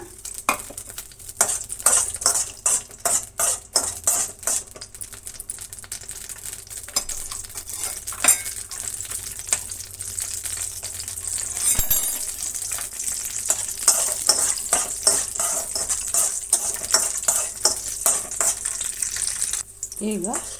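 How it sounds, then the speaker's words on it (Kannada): Raisins and cashews frying in a pan, a steady close sizzle broken by repeated scraping stirs and light metal clinks throughout. "ಈಗ ಇದರ ಜೊತೆಗೆ ನಾವು ದ್ರಾಕ್ಷಿ ಗೋಡಂಬಿ ಎರಡನ್ನು ಹಾಕಿ ಫ್ರೈ ಮಾಡ್ಕೊಳ್ಳೋಣ"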